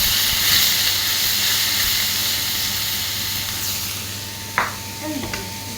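Steady sizzling hiss of seasoned liver, salted and peppered, dropped into a hot pan for a quick sear, with a couple of faint clinks near the end and no talk over it.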